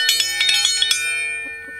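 A bell rung at evening feeding time for chickens and horses gives a quick series of bright metallic chimes, about six strikes in the first second, then rings out and fades.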